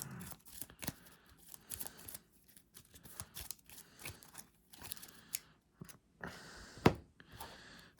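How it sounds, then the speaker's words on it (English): Quiet riffling and snapping of a Marvel Champions Infinity card deck being shuffled, in short bursts with brief pauses and a sharper snap near the end, close up. "give my Infinity deck a quick shuffle"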